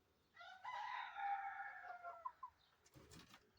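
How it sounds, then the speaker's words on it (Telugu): A rooster on a farm house in Wafra, Kuwait gives one long, loud crow, then a few short clucks and soft bird calls follow close by over a quiet background. "చూడండి కోయట్లో ఫామ్ హౌస్లో ఎన్ని కోళ్ళు పెంచుతున్నారు"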